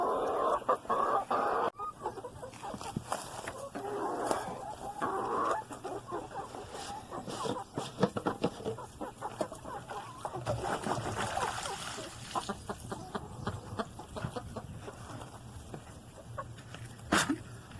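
Backyard chickens cluck and cackle during coop cleanup chores. The clucking is moderately close, with scattered clatter, splashes and handling noises, a faint steady hum beneath it, and occasional quiet talk.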